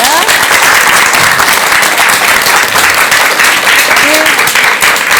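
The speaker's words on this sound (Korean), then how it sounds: "우리 말씀 들어주신 인경 스님께 큰 박수 한번 부탁드리겠습니다" Studio audience applauding a Buddhist monk after a talk on finding happiness: dense, steady clapping fills the whole stretch at close range, with brief voices surfacing faintly underneath.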